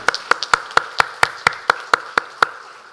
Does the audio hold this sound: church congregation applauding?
yes